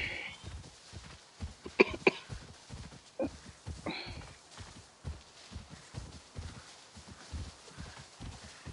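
Rhythmic video game horse hoofbeats from Avatar: Frontiers of Pandora clop steadily at a trotting pace, fairly faint, with a couple of sharper clicks and short snorts mixed in.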